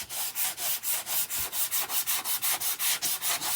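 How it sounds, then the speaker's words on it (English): An electric sander works over a wooden gnome door sign in steady rhythmic passes of about five per second, loud and close, with no talk. "So let me just take a sander to this and let's see."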